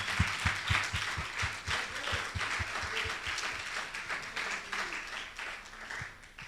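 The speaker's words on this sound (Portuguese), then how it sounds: "Então dê uma salva de palmas para nossas mães." A church congregation claps for mothers on a Sunday service, moderately distant applause with a few sharper handclaps standing out near the start, under a low hum of the room.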